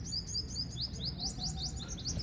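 Rapid high chirps and tweets from birds repeat steadily over a constant low rumble of background noise.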